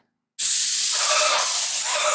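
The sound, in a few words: paint sprayer spraying paint on a vintage RV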